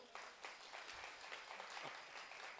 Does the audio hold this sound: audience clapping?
yes